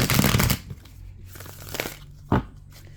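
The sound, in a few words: tarot cards being shuffled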